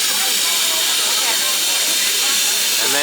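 A loud, steady hiss of steam venting from a steam train in California's redwood forest near Santa Cruz, continuous for a few seconds, with faint voices in the background.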